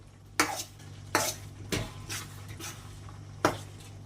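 Mushroom pepper fry stirred in a pan with a spoon, a few distinct scraping strokes against the metal spaced about a second apart over a faint steady sizzle, quiet and close, no voices.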